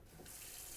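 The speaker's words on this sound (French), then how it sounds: "Vous allez très souvent m'entendre ouvrir l'eau." Kitchen tap turned on, a steady close hiss of running water filling the sink that swells after a brief start and carries on without pause.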